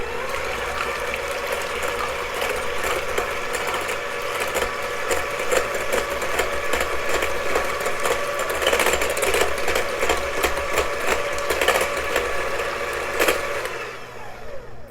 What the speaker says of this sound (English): I'm going to take my hand mixer and I'm going to beat the eggs until they are foamy